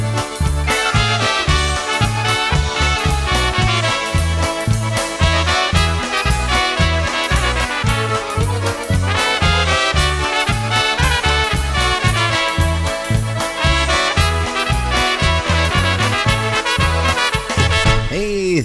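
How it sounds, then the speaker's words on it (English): Polka band recording playing at full volume, a dense ensemble with a steady oom-pah bass beat and bright melodic lines running continuously throughout, with no talking over it. "they were filled with polka music by the greatest polka band I've ever heard"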